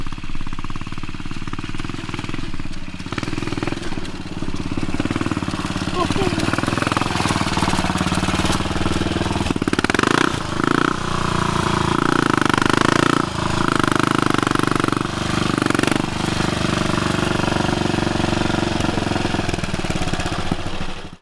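A classic British motorcycle engine running steadily nearby in a workshop, a loud, rough, continuous mechanical chugging with a few changes in revs and no talk over it.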